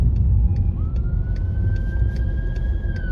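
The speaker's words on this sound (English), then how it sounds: "there's an ambulance coming with its lights on" An ambulance siren wails nearby as it approaches, one long rising and steady tone over heavy low traffic rumble and wind, with no talking.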